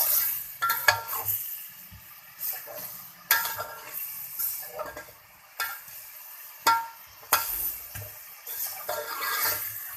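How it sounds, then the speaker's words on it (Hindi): Potatoes being stirred and mixed with tamarind water and spices for spicy-sour chatpate aloo, giving soft wet squelching and scraping strokes in irregular bursts, close and moderately loud. "इसके बाद इसको बड़े आराम से मिक्स करना है।"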